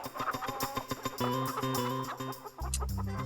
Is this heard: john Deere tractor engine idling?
no